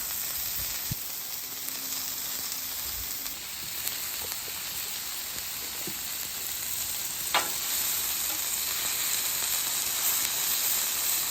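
Onion and zucchini sizzle in oil on a Blackstone griddle, a loud steady frying hiss filling the whole stretch, with a few light spatula taps and scrapes up close.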